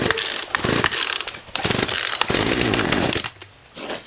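A Poulan chainsaw engine roars steadily at close range for several seconds, revving with brief dips before dropping off near the end and picking back up.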